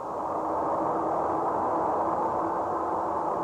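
Recording of space noise picked up by a large radio telescope, heard as a steady, even hiss-like static that stays level for several seconds with no speech.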